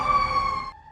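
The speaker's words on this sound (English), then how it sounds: "The fire engine races through town and the lights flash round and round. A firefighter presses the horn." Fire engine horn sound effect, a loud, steady, tonal blare held for most of a second before it cuts off abruptly, with no one talking.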